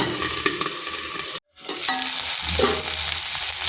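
Cut potatoes dropped into a hot pan with lightly fried pointed gourd, sizzling and crackling loudly with a brief silent gap midway, then the fry hisses on steadily up close.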